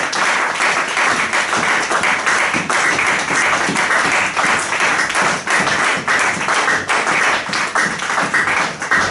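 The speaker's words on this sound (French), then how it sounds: "Acclamons très très très très très fort le Seigneur." A church congregation in Fribourg claps and cheers loudly in praise of the Lord, a dense, steady roar of hands that holds at full volume for the whole stretch, close and continuous.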